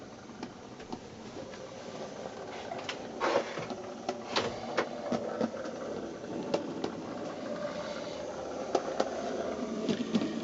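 Model railway engine running at full speed in reverse, with a faint steady mechanical whir and scattered small clicks and rattles throughout, quiet and without talk.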